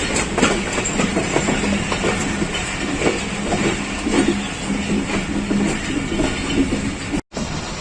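The Pakistan Express passenger train runs on the rails between Faisalabad and Rawalpindi, a loud, steady rumble with rhythmic wheel clatter heard from inside, broken by a brief cut near the end.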